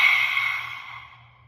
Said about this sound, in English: as you exhale, you stick your tongue out, lift your eyes up to that third eye point or close your eyes and just exhale as hard as you can